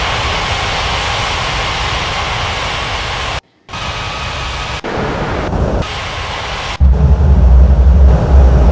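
Jet aircraft engines roar loud and steady through an airport game scene of landing and taxiing, broken by abrupt cuts and level jumps as the view switches, with a deeper rumble near the end.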